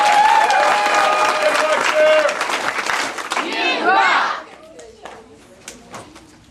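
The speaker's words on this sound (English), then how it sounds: "So give them a big round of applause." An audience at a martial arts belt ceremony in a family martial arts center applauds loudly for about four seconds while a voice speaks over it, then the clapping thins out and fades to scattered claps and room noise.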